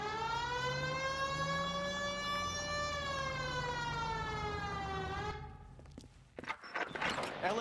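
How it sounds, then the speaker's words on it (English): Wailing police car siren in the L.A. Noire video game, loud and steady with slow rising and falling pitch, cutting off abruptly and followed by scattered thumps and rustling noises. "Hit the siren."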